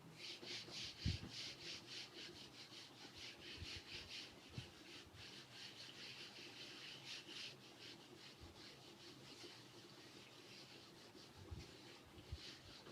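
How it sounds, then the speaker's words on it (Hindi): Something rubs a board clean in a long run of rhythmic, fairly quiet scrubbing strokes, a soft steady swishing with occasional knocks. "तो इसको मैं एक बार रब कर देता हूँ।"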